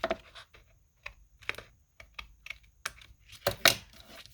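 Paper edge of a 12x12 tri-fold folio being trimmed, a series of short crisp snips and clicks close up, irregular and quiet between cuts, ending in a louder cluster.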